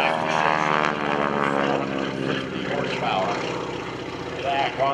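A Stearman biplane drones through an aerobatic hammerhead turn at a military base airshow, its propeller engine steady and loud with pitch shifting as the throttle changes. A voice sounds faintly underneath.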